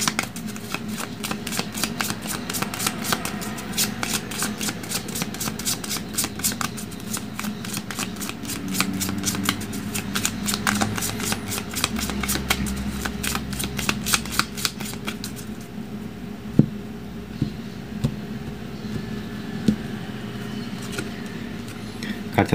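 A Gypsy tarot deck being shuffled by hand, a close, continuous run of rapid riffling card flicks for about fifteen seconds, then quieter handling and occasional taps.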